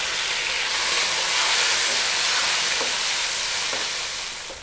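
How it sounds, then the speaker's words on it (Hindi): Tomato frying in a pan with green chilies for an aloo baingan curry, a steady loud sizzle and crackle throughout with faint stirring clicks, no voices. "टमाटर को हमने यहाँ पर 1 से 2 मिनट तक भून लेना है ताकि ये इसमें सॉफ्ट हो जाएं।"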